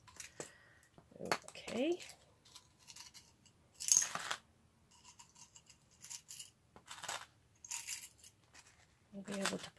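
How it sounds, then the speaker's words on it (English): Metal fasteners of mixed types tumble out of a box in several clattering, jingling bursts, with a person talking between the spills. "We're going to dump this one out. Right here. And this is full of fasteners, different types of fasteners."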